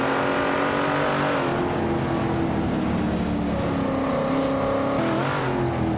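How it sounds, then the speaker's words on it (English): A 1977 Lancia Stratos HF rally car races in a video game, its engine loud and close, a continuous harmonic drone that shifts pitch through gear changes and revs without a break. "Scuderia Veloce is leading in a 1977 Lancia Stratos HF, a classic rally legend."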